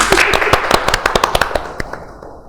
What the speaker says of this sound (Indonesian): berarti kita tepuk tangan untuk mereka semua ya.